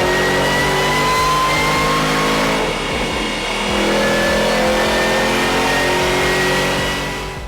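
A loud Ford Mustang GT engine revs hard and steadily, its throaty roar rising and holding with a brief dip midway, close and continuous.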